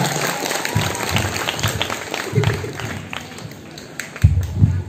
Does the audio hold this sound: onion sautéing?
no